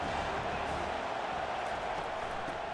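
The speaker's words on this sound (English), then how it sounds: "This crowd bringing the energy and noise early." Stadium crowd noise in the College Football 25 video game, a steady, even roar of many voices filling the background at moderate volume, with no distinct cheers or claps standing out.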